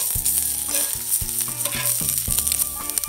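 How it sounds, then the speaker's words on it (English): Seasoned pork with cumin and oregano sizzles in a hot pan while a utensil stirs it, giving repeated sharp scraping strokes over a steady close-up fry. "A little stir."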